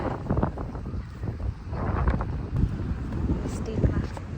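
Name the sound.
wind blowing outdoors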